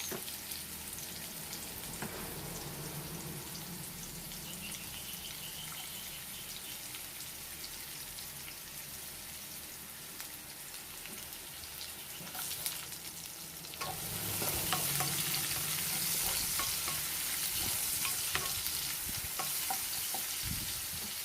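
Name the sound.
onion frying and browning in pan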